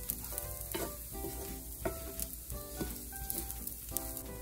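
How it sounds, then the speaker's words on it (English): Jasmine rice stir-fried in a pan with shallot and garlic sizzles steadily while a utensil scrapes and taps the pan in a quick repeated rhythm, close and clear with no voices. "Stir fry and blend the rice with the rest of the ingredients."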